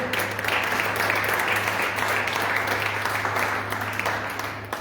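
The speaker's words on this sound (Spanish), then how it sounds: "Pues entonces denle un fuerte aplauso a nuestro Señor." Strong applause from a congregation during a church service, loud and continuous clapping filling the room, with a steady low hum beneath, easing slightly toward the end.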